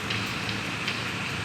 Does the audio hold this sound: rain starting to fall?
yes